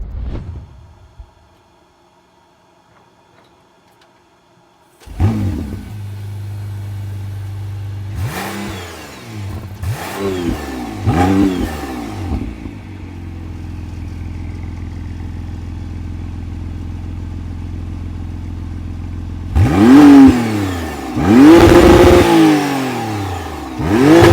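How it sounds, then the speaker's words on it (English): After a few quiet seconds, a 2025 McLaren Artura plug-in hybrid fires up and barks through several sharp revs on its sport exhaust, settles into a rumbling idle, then revs hard again. "an exhaust that sounds like this"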